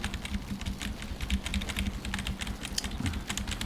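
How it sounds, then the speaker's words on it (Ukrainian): Rapid, uneven clicking of keys on a computer keyboard, continuous typing at close range over a low background hum. "Якщо ви чутимете, що клавіатуру чути"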